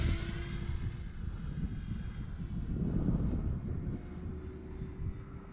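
Propeller drone of an E-Flite Cirrus SR22T electric RC airplane taking off, a steady loud buzzing hum that swells slightly midway and holds, with light wind noise on the microphone.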